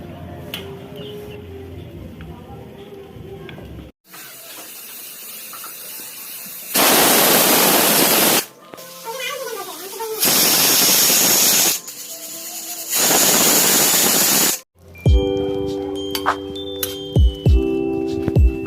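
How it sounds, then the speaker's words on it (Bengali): Pressure cooker with mutton inside, bursts of loud hissing steam whistles in three long blasts separated by quieter kitchen noise, followed by clattering near the end. "প্রেসারের ঢাকনাটা দিয়ে আমি 2-3টে সিটি মেরে নেব।"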